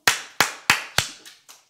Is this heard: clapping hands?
yes